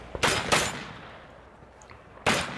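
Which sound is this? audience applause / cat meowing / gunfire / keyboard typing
gunfire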